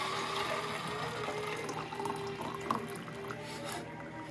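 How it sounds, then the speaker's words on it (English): Hot water pouring from an electric coffee pot into a cup, a steady close liquid stream with no talk, on a frigid New Year's night. "So I'm going to take a cup of hot water out of this electric coffee pot."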